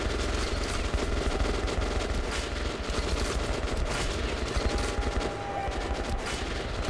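Sustained automatic gunfire from the video game Metro: Last Light, a dense, loud stream of rapid shots and bursts rattling continuously with no pauses and no voices.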